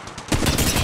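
Gunfire in Apex Legends Mobile erupts as a sudden, loud burst of rapid automatic shots after a brief quiet moment.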